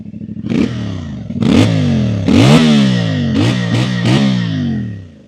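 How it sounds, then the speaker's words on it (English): A CFMOTO 450MT twin-cylinder motorcycle exhaust revs loudly and up close, with a series of sharp throttle blips that rise and fall, the last few in quick succession. "Let's do a sound check of the exhaust on the CFMOTO 450 MT."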